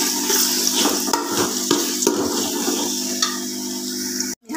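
Karela seeds tipped into a pan of onion and garlic frying to light golden, giving a steady close sizzle with brief stirring scrapes and a short break near the end.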